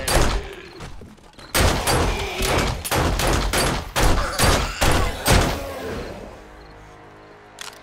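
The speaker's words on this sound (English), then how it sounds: "let's go in with the shotgun again. Aim for the head this time." Shotgun blasts at a zombie in the game 7 Days to Die: about a dozen loud, close, booming shots in a fairly even rhythm, then a quieter tail with a last small thump.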